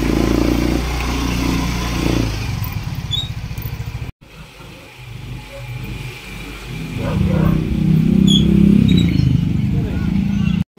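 A motorcycle on a road trip revs and rumbles loudly close by, with engine roar rising toward the end and a brief cut in the middle; people talk over it.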